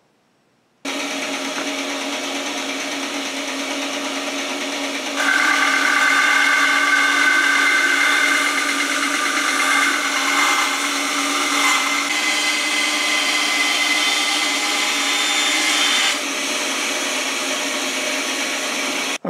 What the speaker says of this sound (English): now we're going to rip it on our saw